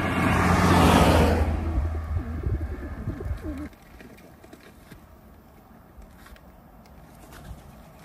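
Young racing pigeons released in pairs, a burst of wingbeat flutter and cooing up close at the start, then quieter outdoor ambience with a passing car.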